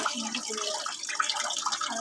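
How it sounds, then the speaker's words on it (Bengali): Water is poured off washed rice while making payesh, a short close gurgling splash of running liquid, with no talking. "আমরা চাউলের পানিটা ফেলে নিচ্ছি।"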